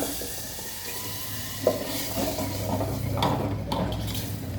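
Curd and beetroot paste mixture for beetroot pulissery poured into a cooking pan, a steady soft liquid splash and sizzle with a few light clinks of a utensil against the pan, moderately close and continuous.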